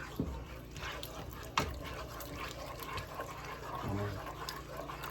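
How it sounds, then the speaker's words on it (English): Water is poured a little at a time into a pan of gravy for smothered mustard fried pork chops over medium-low heat, with a few distinct splashy bursts over a steady hiss and sizzle. "Add your water a little at a time."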